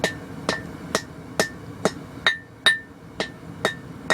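A hammer strikes hot metal while forging a fullering tool, about ten sharp, ringing blows at a steady rhythm roughly every half second, loud and close, each with a short metallic ring.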